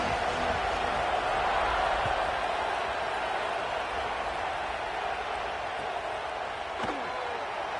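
A roaring stadium crowd at a Louisiana versus Rice football game fills the air with a loud, dense, unbroken wash of cheering and noise, with a few faint thuds underneath.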